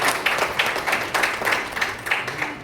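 An audience claps at a BJP youth wing rally in Yeola, a brief burst of moderately loud, rhythmic applause with fairly regular hand claps.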